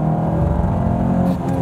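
A Volkswagen Passat TS pulling away after a manual gear shift, its engine note rising steadily and close by in a short, loud burst of acceleration.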